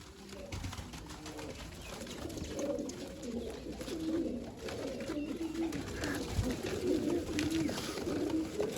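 Several caged pigeons, about twenty, coo softly and repeatedly, their low throaty calls overlapping at close range against a faint background hiss.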